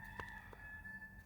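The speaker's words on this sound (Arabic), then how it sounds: "وحشني الديك" A rooster crows briefly at night before dawn, a faint, distant call heard alone against quiet background hum.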